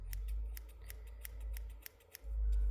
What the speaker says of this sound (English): Wherever you feel you need to cut it, and bring it out a little bit.